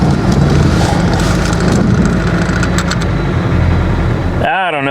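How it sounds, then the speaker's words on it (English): A 2013 Ford F-series pickup engine idles roughly, then gets some throttle, with a steady, close mechanical drone throughout that breaks off near the end. "Boy, it starts running pretty bad. Let's give it a little gas."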